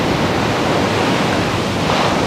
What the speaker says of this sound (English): Wow, some big old waves.